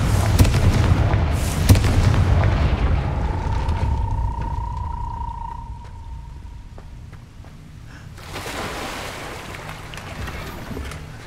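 A Confringo fire spell blasts open a gate in Hogwarts Legacy, a heavy booming burst followed by a ringing tone and a second rumbling explosion.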